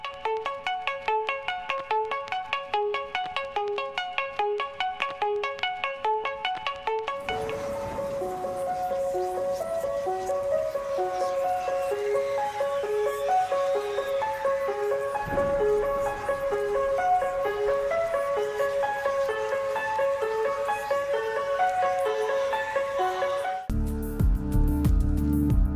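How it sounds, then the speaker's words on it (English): A studio recording of Oliver Tree's Colorblind beat plays steadily: a bright, chime-like melodic loop opens alone, then a fuller layered arrangement with sustained tones carries on, ending on a sudden denser low section. "Getter's interlude version of Colorblind seems to be more of a studio version of Oliver's beat he used in the behind the scenes video"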